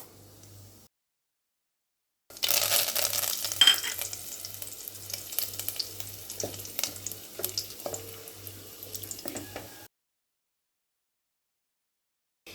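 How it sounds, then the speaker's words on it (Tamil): Curry leaves sautéed in a pan for roadside-style salna send up a bright, crackling sizzle that starts abruptly, with scattered pops and spatula scrapes, close by, then cuts off, and a low regular hum pulses beneath. "இப்போ நம்ம இதில் கொஞ்சம் கருவேப்பிலை ஆட் பண்ணிக்கலாம்"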